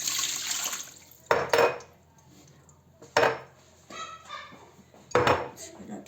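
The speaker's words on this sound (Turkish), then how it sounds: "Üzerine şöyle su ekleyelim." Water poured into a cooking pot of stuffed dolma set in sauce, with short splashing bursts and clinks of the pot between quieter gaps, close by.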